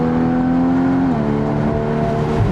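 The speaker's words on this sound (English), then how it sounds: "A Porsche Boxster should not sound that good." Porsche 981 Boxster S engine pulling hard under acceleration, a loud close rising drone that dips at a gear change and climbs again.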